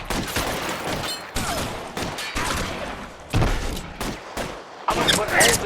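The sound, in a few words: gunfire in the video game L.A. Noire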